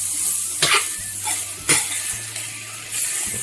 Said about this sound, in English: I'm going to go ahead and add our mushrooms now.